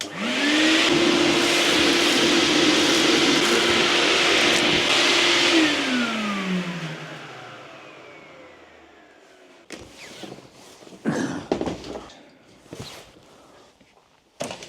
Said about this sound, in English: I'll turn it on. I'll just continue hoovering the floor with the pipe.